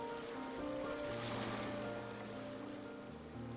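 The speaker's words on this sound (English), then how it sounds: "Go to where you can hear the sound of the waves." Ocean surf washes in a video game during the Mizuki story quest, a soft steady roar of waves with airy wind layered over a faint low tone, continuous and fairly quiet.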